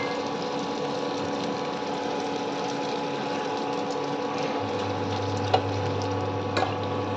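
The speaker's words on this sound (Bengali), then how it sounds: "ফুচকা ভাজা হচ্ছে।" Fuchka puffing as it fries in oil in a steel bowl on an induction oven, a faint steady sizzle over a constant electrical hum, with a low drone joining partway and a couple of small clicks.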